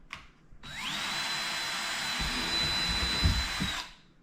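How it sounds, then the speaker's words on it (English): A power drill whirs steadily for about three seconds, its motor pitch rising as it spins up, with grinding bites into a thin plastic container lid before it winds down. "I'm going to take my drill and drill bit, and I'm going to drill 4 holes"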